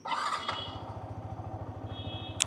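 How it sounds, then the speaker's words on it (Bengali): A Yamaha motorcycle engine, an R15 V4, FZS V4 or FZ-X, fires up and settles into a quiet, steady idle with a rhythmic low thrum and a brief squeal near the end. "আমি যদি বাইকটা এখন স্টার্ট করি"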